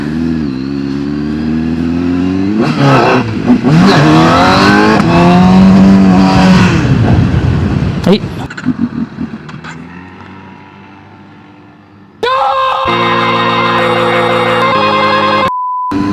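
A CFMOTO 750SR sport motorcycle engine revs hard and close, its pitch climbing and falling through several throttle blips before the engine note fades away. Steady electronic tones then follow.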